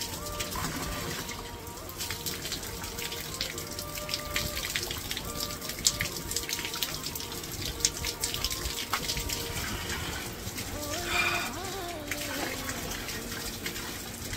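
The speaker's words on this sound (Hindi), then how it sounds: "ये देखो पहाड़ों के अंदर से पानी आ रहा है" Spring water runs out of a mountainside near a village in Uttarakhand, a steady trickling and splashing flow with droplet patter, close and moderately quiet.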